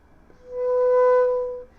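Flute playing the octave harmonic of low B, a single sustained pure tone that swells in gently and fades out after about a second, alone and fairly soft.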